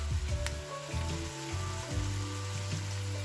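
Onions browning in a large cast-iron cocotte, a continuous soft sizzle and crackle heard alone, with low hum beneath and a sharp clink near the start.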